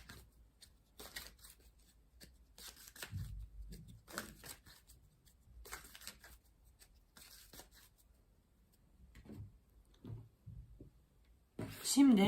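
Tarot cards are shuffled, handled and laid out on a surface, giving quiet intermittent papery riffles and soft slaps in bursts, with a louder rustle right at the end.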